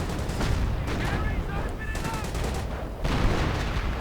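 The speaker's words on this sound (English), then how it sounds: "Lots of artillery right here." Artillery and scattered gunfire fill a WWII strategy game battle with continuous dense rumbling blasts, steady and moderately loud, with a brief lull near the end before the barrage resumes.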